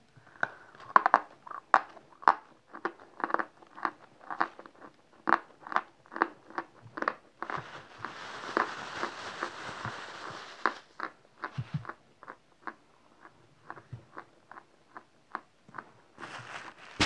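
Edible chalk bitten and chewed close to the mic, a long series of sharp regular crunches with a louder grinding burst midway, then more spaced crunches; the chalk is slightly moist and bites easily.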